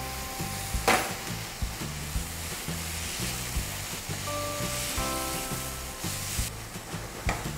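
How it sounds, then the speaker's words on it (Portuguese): Onion, garlic and leek sautéing in coconut oil in a pan, a steady loud sizzle with faint scraping stirs running throughout, no voices. "Primeiro, refogar a cebola. Botar o alho."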